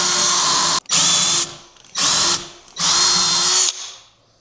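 A power drill bores holes for the mounting bolts of a Tesla EV charging-cable holder, running in three loud bursts, each about a second long, separated by short pauses and trailing off at the end.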